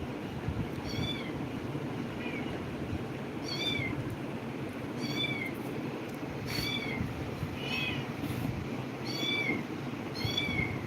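A cat meows repeatedly, about eight short calls spaced a second or so apart, over a steady low background hum.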